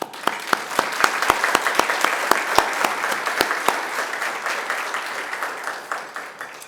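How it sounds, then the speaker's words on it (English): Audience applause fills the room at a city state-of-the-city address in Southfield, Michigan, a steady wash of clapping with sharp, close individual claps punctuating it for several seconds. "you deserve a round of applause."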